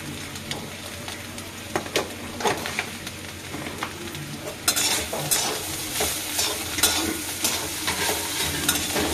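Onions sizzle steadily in a hot pan while a utensil stirs and scrapes, with frequent clicks and taps against the metal, close and continuous.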